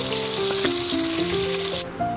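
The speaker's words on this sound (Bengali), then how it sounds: "এখানে বাকি যে মাছগুলো ছিল ওগুলো ছেড়ে দিলাম গরম তেলের মধ্যে।" Vangon fish pieces dropped into hot oil and frying, producing a loud, steady close sizzle with brief spatters and a faint wavering tonal whine alongside.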